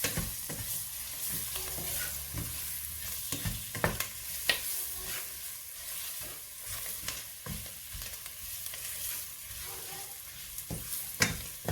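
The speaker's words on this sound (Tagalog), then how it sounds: "So, igigisa ko yung aking sauce." Curry sauce sautéing in a pan, sizzling sustained and fairly quiet, with intermittent scraping and clacking as it is stirred.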